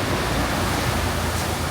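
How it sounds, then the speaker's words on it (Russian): Water sprays hard onto new UAZ vehicles in a factory leak-test booth, a loud, steady, broadband hiss like heavy rain that continues without pause. "Тут поливают их водой."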